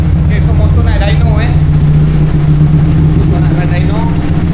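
A motorcycle engine runs in a dyno workshop, a steady low idling hum that holds for the whole stretch, with a voice talking over it.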